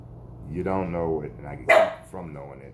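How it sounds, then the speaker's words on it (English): A dog barks once sharply close by, cutting in over someone speaking in an interview, his talk continuing before and after the bark. "That was my dog."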